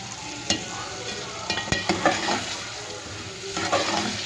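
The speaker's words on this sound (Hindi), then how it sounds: "भूनते जाइए इसे अच्छे से।" Diced potatoes and peas frying in oil in a pan, stirred and tossed with a spatula: a constant sizzle with clustered scraping clacks near and loud, and no talking.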